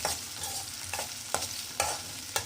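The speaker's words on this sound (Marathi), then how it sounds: "आता आपण टोमॅटो टाकूया आणि त्याला सुद्धा छान फ्राय करून घेऊया" Chopped tomatoes frying with onion in a pan for carrot sabzi, a steady close sizzle with a spatula scraping and stirring in repeated strokes, no voices.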